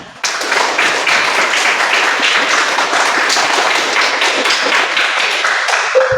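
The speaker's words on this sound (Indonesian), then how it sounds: "Tepuk tangan." A school classroom of students clapping their hands together in a dense, loud burst of applause lasting several seconds, close by, then stopping abruptly.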